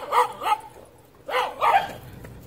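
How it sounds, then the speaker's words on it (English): A dog barks close by in two pairs of sharp, yelping barks separated by a short pause, with no one talking. "That's Kaiser barking like that."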